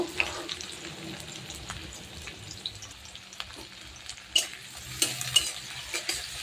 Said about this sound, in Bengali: এখানে পেঁয়াজটা আমি তেলে দিয়ে দিচ্ছি, একটু তেলে নেড়ে চেড়ে নেব।